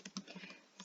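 Typing on a computer keyboard, a quick cluster of four or five soft, close key taps in under a second, faint and alone.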